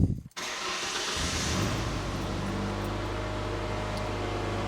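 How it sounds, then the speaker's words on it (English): A Ford or Mazda car engine cranks briefly and catches, then settles into a steady, even idle with a constant low hum. It sounds close and fairly loud, and nobody speaks. "Let's get this thing to start and see if it'll idle."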